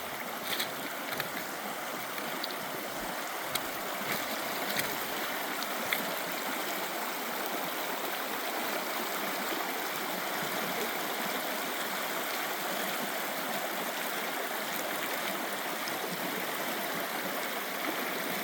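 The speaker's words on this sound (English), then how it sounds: "Beautiful Missouri streams." A flooded Missouri stream rushes steadily over rocks, a continuous broad wash of flowing water heard close and unbroken, with no one speaking.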